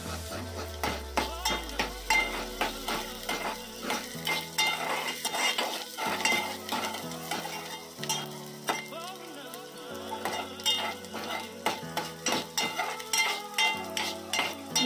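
Onion frying in a pan for a dahi tadka is stirred again and again with a utensil, giving repeated scraping clinks over a soft sizzle, with background music playing throughout.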